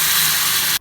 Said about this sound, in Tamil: இப்போது எடுத்து வச்சுருக்க புளி தண்ணியை ஆட் பண்ணிக்கோங்க.